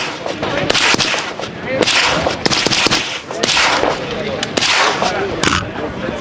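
Several sharp gunshots from a pistol with a 5.5 inch barrel fired at an outdoor range, loud, closely spaced cracks at irregular intervals over steady background noise.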